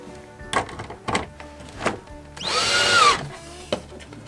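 A power driver with a square bit snugs six screws back into an RV power converter box, giving short whirring bursts with a longer rising whine in the middle, close and clear, with no talk.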